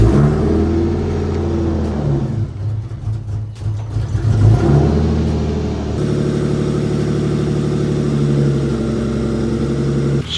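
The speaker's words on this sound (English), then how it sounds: "We're gonna start her up right now." A Lexus car engine cranks and catches, then idles and revs in loud, close bursts with a steady running drone afterward, no one talking.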